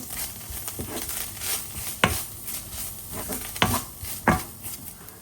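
Salted fish fries in a pan, a steady sizzle broken by a few sharp crackles and scraping stirs, close and without speech.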